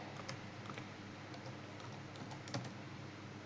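Typing code on a computer keyboard, a run of light, irregular key taps heard faintly over steady background hiss, no voice.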